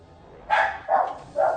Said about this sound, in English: Oh, and the dog goes crazy.